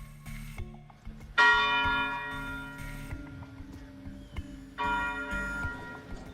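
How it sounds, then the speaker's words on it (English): A church bell tolls in Memphis, Tennessee, at the site of Martin Luther King Jr.'s assassination on the 50th anniversary. Two clear, ringing strikes sound alone, each with a long, humming decay and a faint ticking underneath. "the bell rang 39 times, one for each year that Martin Luther King Jr. lived"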